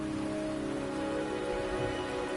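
Rain falls in the video game Wuthering Waves as a short, even wash of drops beneath a held musical drone, with no voices.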